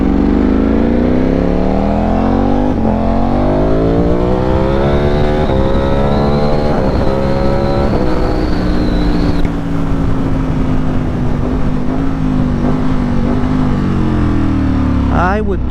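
A Ducati V4S motorcycle fitted with an Akrapovic exhaust revs, its engine tone climbing and falling in smooth sweeps before settling into a rougher, steady drone, loud and close.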